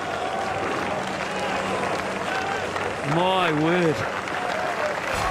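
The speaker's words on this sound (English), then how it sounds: "There's a groan from the crowd." Crowd at a New Zealand vs India Test cricket match in Wellington lets out a rising groan over steady crowd noise, with a commentator speaking briefly.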